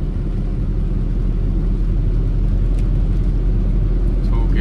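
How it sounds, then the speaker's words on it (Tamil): A truck passes a learner car on a traffic road, heard as a steady heavy engine rumble and road roar from inside the cabin while someone talks over it. "அந்த ட்ரக் வந்து இப்போ நம்மளை வந்து ஓவர்டேக் பண்ணி போகும் பாருங்கள்"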